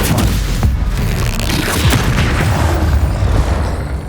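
The Stupefy stunning spell in Hogwarts Legacy lands amid loud, continuous combat, a dense booming barrage with sharp impacts and rumbling bursts filling the whole stretch.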